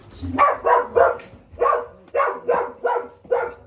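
A group of association dogs bark in short, loud, evenly spaced bursts, about eight barks close to the microphone with no talking over them.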